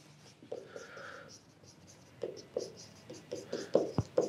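A pen writes notes on paper during a lecture, with scratchy strokes and taps coming in short bursts, close and quiet with pauses between.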